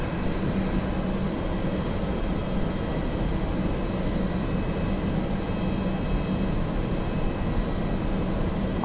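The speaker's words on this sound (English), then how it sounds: "No planes coming in, although I hear one taking off." An airplane takes off in the Prepar3D flight simulator, heard as a steady, even roar of jet engine noise that holds constant for about nine seconds with no voices.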